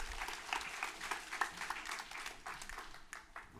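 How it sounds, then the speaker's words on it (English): A seated workshop audience claps for a guest called up to the front, a fairly quiet, scattered round of applause with a few sharper individual claps that thins toward the end. "Can we give Eva a big round of applause?"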